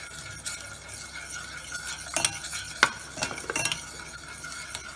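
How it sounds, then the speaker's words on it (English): Mango and sugar mixture stirred in a pan for homemade mango ice cream, soft scraping and clinks of a spoon against the pan, with a faint sizzle underneath and a few sharper knocks. "And then again mix it"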